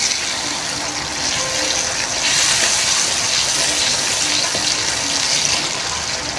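Water gushes steadily into a cooking pan to make gravy for a khandwiyan curry, a loud, continuous splashing pour with no voices.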